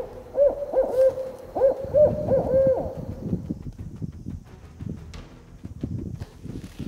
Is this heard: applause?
no